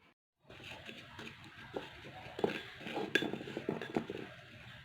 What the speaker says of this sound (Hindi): अब हम इसमें एलोवेरा जेल को ऐड करेंगे ताकि अच्छा सा पेस्ट बन सके